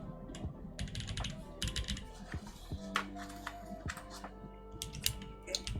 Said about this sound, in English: Put on the rest of the keycaps.